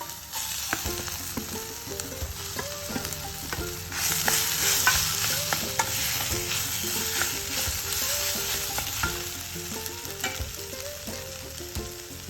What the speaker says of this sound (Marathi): ह्यातच आपण तीन मीडियम आकारचे बटाटे उकडून मॅश करून ठेवले ते घालूया आपण